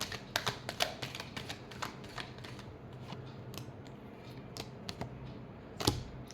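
Tarot cards are shuffled in quick bursts of soft riffling taps and slaps, close and fairly quiet, with a sharper flurry near the end.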